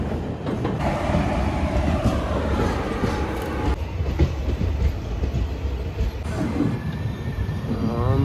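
A train crossing the Pamban bridge on the way to Rameswaram makes a steady rumble of wheels on rails with clattering carriage noise, loud and continuous throughout, and no talk is heard.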